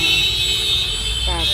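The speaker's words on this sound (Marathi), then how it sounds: "खूप ट्रॅफिक जाम लागलाय." Dense traffic jam in Byculla, Mumbai, heard from inside a taxi: a constant rumble of road noise with sustained horn tones and a brief extra honk near the end.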